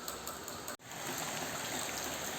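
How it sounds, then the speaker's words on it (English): Heavy rain pours down during a tropical storm as a dense, constant hiss. It drops out for a split second early on, then resumes at full strength, with no voices. "Raining big time."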